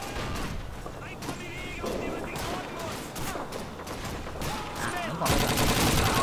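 Video game Call of Duty 2 with British special forces in combat, rapid gunfire and battle noise running continuously and loud, while people talk over it.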